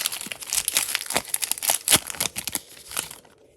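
Crinkly foil wrapper of a Pokémon Shining Star booster pack being torn open by hand, a rapid close run of crackling, tearing rustles that tapers off into quiet.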